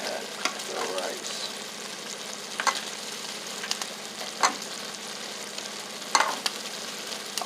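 Rice sizzles and crackles in a hot pan for Puerto Rican fried rice. The frying hiss is steady and close, with sharp utensil clatters against the pan every second or two.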